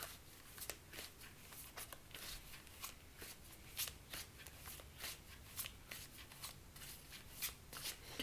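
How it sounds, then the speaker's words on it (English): Tarot cards being shuffled in repeated quick riffles and soft flicks, close and fairly quiet, with no voices. "they just seem to need a bit more shuffling today"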